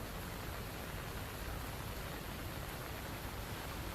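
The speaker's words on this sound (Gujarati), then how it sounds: "ડાંગ જિલ્લામાં મોડી રાત્રે ધોધમાર વરસાદ વરસ્યો" Heavy overnight rain in Dang district with water flowing over a causeway, a dense, loud, unbroken roar of rushing water and downpour that never lets up.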